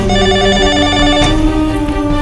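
In a Telugu action movie scene, a telephone rings loudly and continuously with a bright, steady electronic trill and no pauses.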